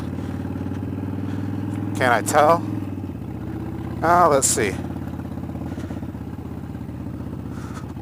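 A motorcycle carrying a loaded sissy bar bag on the back rides along at fairly slow speed, its engine a steady, close drone throughout while a rider speaks briefly over it.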